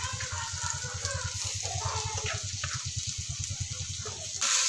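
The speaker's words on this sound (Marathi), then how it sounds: "लाल होईपर्यंत पूर्ण कांदा आपल्याला भाजून घ्यायचा आहे" Onion and coconut frying in oil in a pan make a continuous soft sizzle with a faint pulsing hum underneath, and it grows louder briefly at the very end.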